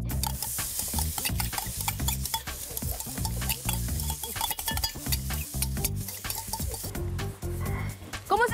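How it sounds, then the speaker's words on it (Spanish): Steady, dense sizzling and crackling of food deep frying in hot oil, with stirring and utensil scrapes throughout, fairly loud and close. "¿Cómo se fríe? En fritura profunda"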